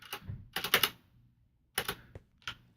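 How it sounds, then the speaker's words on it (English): Loud bursts of clattering computer keyboard typing come in quick clusters with short pauses between them, close to the microphone and alone. "keyboard's loud, sorry"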